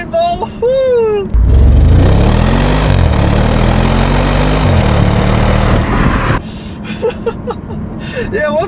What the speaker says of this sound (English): once I could rev it out a little bit more, it pulled even harder